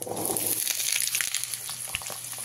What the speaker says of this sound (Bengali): আলুগুলো দিয়ে খুব ভালো করে লাল লাল করে ভেজে নিতে হবে।